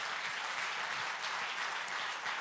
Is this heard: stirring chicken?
no